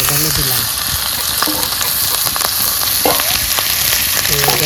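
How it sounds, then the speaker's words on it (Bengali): Whole cumin seeds tempered in hot oil with ginger then added, giving a loud, steady close sizzle and crackle with occasional stirring scrapes and clinks, no talking. "ফোড়ন দিয়ে দিলাম এইবার যাবে একটু আদা আর একটু এই"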